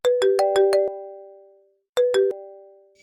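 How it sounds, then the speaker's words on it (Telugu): A phone ringtone plays a bright, bell-like melodic phrase of five quick tones that ring out, then restarts after a pause, loud and close with no talking. "ఆదిగాడు ఫోన్ తప్పేశాడు రా."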